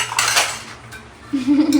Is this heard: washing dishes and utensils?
yes